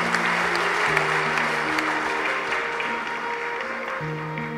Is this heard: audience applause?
yes